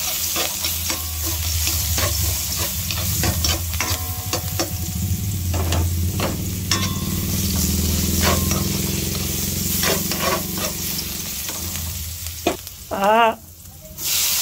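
Garlic and onion fry in a pan for sarsiadong bangus, sizzling loudly and steadily while a utensil stirs them in repeated scraping strokes. The pan is close, with no one talking.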